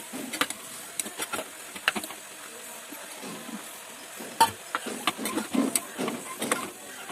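Chopped tomatoes and vegetables roasting in a pan for a Kannada-style palya, with irregular scraping and stirring strokes over a soft sizzle, close and fairly quiet, with no talking.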